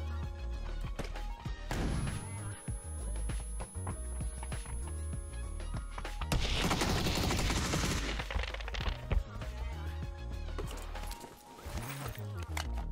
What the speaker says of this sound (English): I heard gunshots, so I'm assuming they're at this compound.